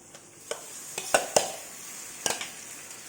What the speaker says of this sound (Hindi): अब हम इसमें मक्के के दाने को जो हमने क्रश किया था वो डाल देंगे।